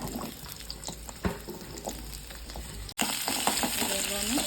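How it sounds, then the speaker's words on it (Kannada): Whole spices, ginger, garlic and onion frying in hot oil give a steady sizzle with occasional stirring scrapes, jumping louder and brighter after a brief cut as fresh ingredients hit the pan. "ಈಗ ಎಣ್ಣೆ ಕಾದಿದೆ. ಚಕ್ಕೆ ಲವಂಗ, ಸೋಂಪು, ಶುಂಠಿ, ಬೆಳ್ಳುಳ್ಳಿ, ಈರುಳ್ಳಿ ಎಲ್ಲ ಹಾಕ್ಕೊಂಡು ಹುರ್ಕೊಳ್ಳೋಣ"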